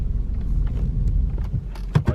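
A Mercedes S500 rolls slowly under its own power, giving a steady low rumble with a few light mechanical clicks and a brief knock near the end. Quiet talk may sit in the background.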